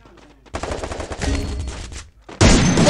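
M1014 shotgun blasts ring out in a video game, loud and close: a dense burst of gunfire, a brief pause, then another heavy blast with a long ringing tail.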